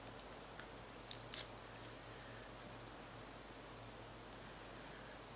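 A few quick, faint snips of scissors cutting paper sound against a quiet hiss, with a short cluster of cuts near the start.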